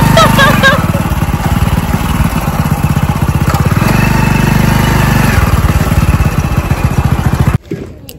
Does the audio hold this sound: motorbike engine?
yes